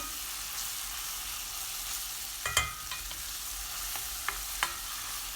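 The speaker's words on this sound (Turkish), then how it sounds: "1 tatlı kaşığı salça ilave ediyorum. Salçanın kokusu çıkıncaya kadar kavuruyorum." Tomato paste sautés in a pan for a zucchini dish, a soft steady sizzle with a few light clinks and scrapes of a utensil stirring, close and quiet with no talking.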